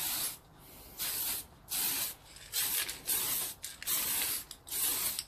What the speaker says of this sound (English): Start spraying before you get to where you want to get to and then let go when you get past